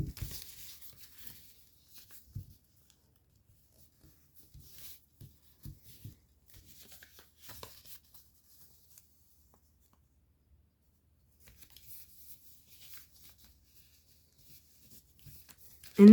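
Paper being folded into flaps of a paper airplane model, quiet intermittent rustling, rubbing and creasing scratches scattered across a mostly silent stretch, close and soft.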